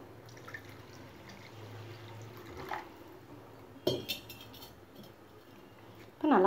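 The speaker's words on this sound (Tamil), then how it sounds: "இந்த ஸ்டேஜில் நம்ம தண்ணி சேர்த்துக்கலாம்" Water trickles and drips into a pan of paneer gravy during cooking, a faint, sparse pouring with a few small clinks and a louder splash at the end.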